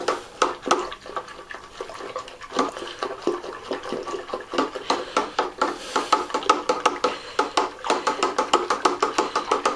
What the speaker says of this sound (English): Make sure you really stir that up really good.